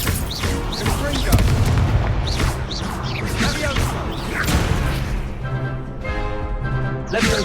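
In the Hogwarts Legacy video game, a Confringo spell and other combat effects set off dense, continuous booms, crashes and whooshes, loud and layered over game music and voices.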